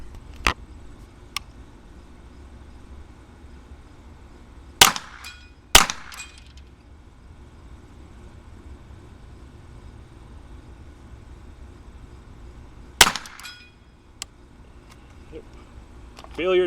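Rimfire rifle shots fired through a scope at steel targets, heard as a few sharp isolated cracks spaced seconds apart with faint ticks between, over a quiet outdoor background.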